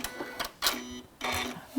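A sewing machine runs a lock stitch in two short, quiet bursts of buzzing, each separated by a pause, heard close up.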